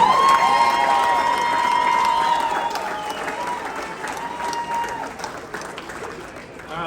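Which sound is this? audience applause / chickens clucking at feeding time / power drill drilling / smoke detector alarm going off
audience applause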